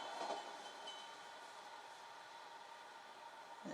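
A suburban train on the Midland line rumbles past at a distance at night, a steady broad roar with a faint hiss and no voices.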